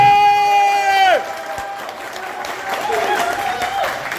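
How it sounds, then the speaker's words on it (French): Audience at a youth democracy gathering at the Maison de la Presse in Bamako breaks into applause and cheering after a sustained tone ends, the clapping building again toward the end under crowd noise. "Applaudissez."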